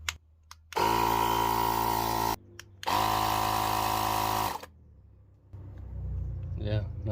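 An Avid Power portable tire inflator runs in two loud, steady buzzing bursts of about two seconds each with a short gap between, then gives way to softer rumbling and someone speaking.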